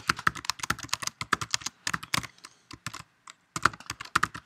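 Rapid bursts of keystrokes on a computer keyboard while a new file name is typed into a rename box, clicking in quick irregular runs with two brief pauses, close and clear with no talk.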